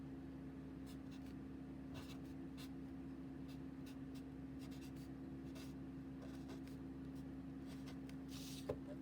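Faint pen or marker strokes writing by hand, a series of short soft scratches spread across the clip over a steady background hum.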